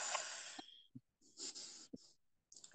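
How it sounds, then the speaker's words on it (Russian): Deep breaths drawn in through the lower belly in yogic pranayama style, close, airy rushes of breath with brief pauses between, quiet and unaccompanied by speech. "сделайте, пожалуйста, глубокий вдох"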